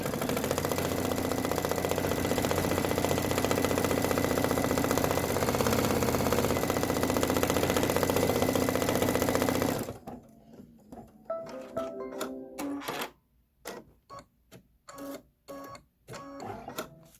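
Embroidery sewing machine stitching window pane details on a Kimberbell bench pillow, a loud, steady mechanical whir with rapid needle chatter for about ten seconds, then stopping into scattered clicks and quieter movement.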